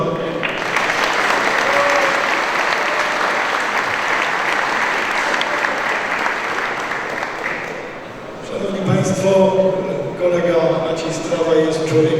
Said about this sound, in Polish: Bardzo proszę o wielkie brawa.